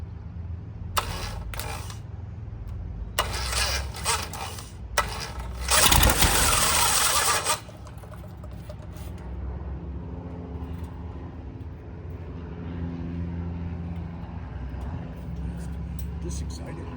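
Piston engine on a Thorp light aircraft, an O-290, cranking and starting with a few loud bursts and then a sustained roar, settling into a steady idle rumble while people talk nearby.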